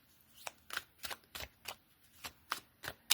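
Tarot cards are handled and drawn close up in a quiet room, making about nine crisp papery snaps and slides spaced unevenly across a few seconds, with no speech.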